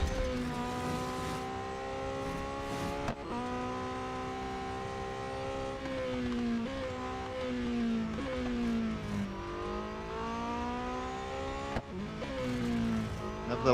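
Race car engine in the driving game Real Racing 3, a sustained buzzing drone that rises and falls through gear changes with brief dips, steady and close with no talk.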